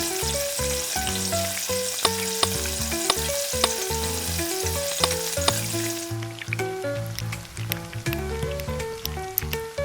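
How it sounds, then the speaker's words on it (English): Onions and tomatoes stir-fry in hot oil with a loud, steady sizzle, punctuated by sharp clacks of a utensil against the pan and a rhythmic tapping pattern throughout. "Stir-fry onions and tomatoes."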